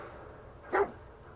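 Dogmeat, the dog companion in Fallout 4, gives a single short bark that stands out clearly against a quiet, low game ambience.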